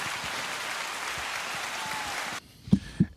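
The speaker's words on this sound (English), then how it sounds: "round of applause for Bam" A round of applause rises on a podcast set: a dense, steady patter of clapping for a couple of seconds that cuts off abruptly, followed by two soft thumps.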